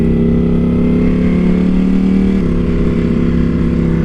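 A Ducati Panigale motorcycle engine, a loud, steady, close droning rumble that shifts pitch slightly partway through while the bike cruises.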